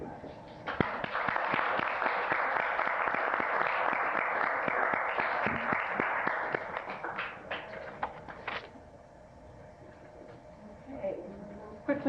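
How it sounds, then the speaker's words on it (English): An audience at a cable television commission meeting gives a modest round of applause, fairly distant clapping that holds for several seconds then thins into scattered claps and room noise, with a voice briefly audible. "Big round of applause, huh?"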